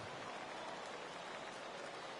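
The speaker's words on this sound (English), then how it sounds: "the rain starting to intensify here. It's coming down a little heavier now." Steady rain pours over a baseball stadium in MLB The Show 18 during a game with the Atlanta Braves, a dense even hiss of drops filling the whole stretch with no break or talk.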